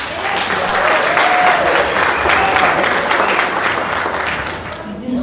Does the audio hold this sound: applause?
yes